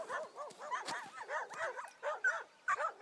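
Dogs play together on a mountain plateau in the Kartalkaya ski area, giving a string of soft whimpers, yips and small barks, with quiet movement sounds in the background.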